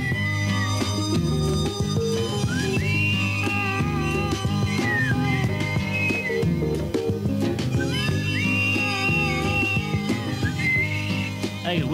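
A melodic whistled tune rises above a full band playing steadily, the whistling returning in repeated phrases.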